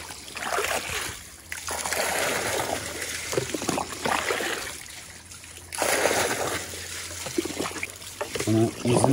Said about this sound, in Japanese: この水の音はやっぱ ASMR ですね